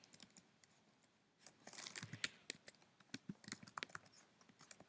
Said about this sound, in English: So if I type in H1 here